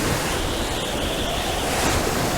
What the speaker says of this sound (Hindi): ये तो बड़ा ही जोरदार तूफान है।